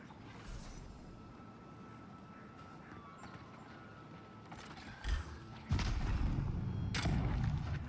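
Gunfire in the fantasy action game Avowed, with sharp booming shots around 5 and 5.7 seconds and again near 7 seconds, loud and close over a continuous combat rumble.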